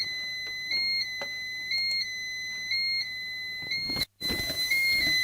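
A Pyronix EURO 46 intruder alarm sounds as a loud, steady electronic tone pulsing in a regular on-off rhythm, briefly cut off near the end before resuming, with no talk.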